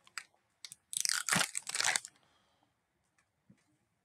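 Biting into Ben & Jerry's Karamel Sutra ice cream with a caramel core, heard as a few faint ticks followed by a loud, close crunchy bite lasting about a second, then near silence.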